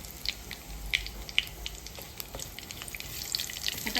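Cumin seeds and a bay leaf dropped into hot oil, a faint, steady sizzle with scattered tiny crackles and pops, quiet and close.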